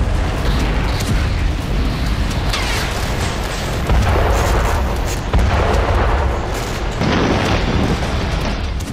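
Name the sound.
weapon explosion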